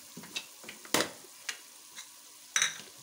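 A spoon stirs besan curry in a cooking pot, giving soft, irregular scraping taps at close range against a faint sizzling background, with no talking.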